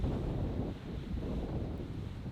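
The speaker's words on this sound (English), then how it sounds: "unless the wind dies down completely" Strong wind on the Oregon coast buffeting the microphone, a loud continuous rumbling roar with gusty swells and no voices.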